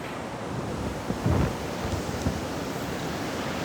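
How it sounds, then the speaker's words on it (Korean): Stormy beach during Typhoon Maysak, with a steady roar of wind, rain and surf filling the scene, a brief louder gust or wave burst standing out near the middle. "지금 비 옵니다"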